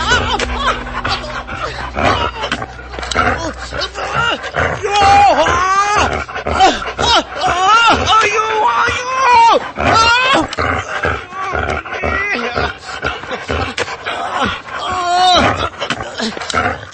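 A dog attacking and biting in a Malayalam radio drama adaptation of a Sherlock Holmes story: loud snarling, growls and yelps mixed with anguished human cries and shouting, a dense, continuous struggle of animal and voices.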